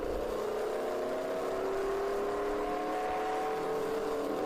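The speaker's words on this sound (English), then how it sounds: "they've got that Chevrolet Malibu, the sound of freedom, roaring around the racetrack here today." A Chevrolet Malibu endurance race car roars steadily around the Road America racetrack, its engine note loud and sustained, rising slightly in pitch as it passes.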